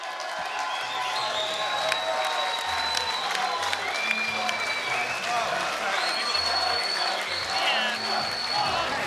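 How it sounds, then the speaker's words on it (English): A crowd applauds and cheers after a Muay Boran fight, a continuous wash of clapping with scattered whistles and shouts, while an announcer's voice carries over the noise. "a massive round of applause for both of these men"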